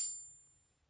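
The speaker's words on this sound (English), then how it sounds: "It makes a ringing, tinging sound as it flips out." A Winter Blade Co. Factor knife gives a single bright metallic ring as it flips open, a clear high ping that decays quickly into near silence.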